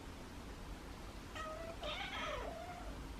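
A house cat meows twice for food at dinnertime, a short call followed by a longer drawn-out one, close and clear in a quiet indoor room.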